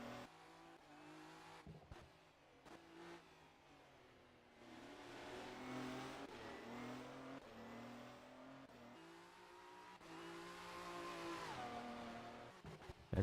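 An LMP1 prototype race car at Interlagos in an endurance racing video game holds a steady engine drone, rising and falling with gear changes as it drives on, with no talking.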